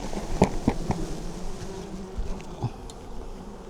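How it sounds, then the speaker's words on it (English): Swarm of honey bees shaken from a tree into a bucket, a dense, continuous buzzing hum with a few soft thumps and knocks from the shaking, close by. "let's shake these bees from the tree into the bucket"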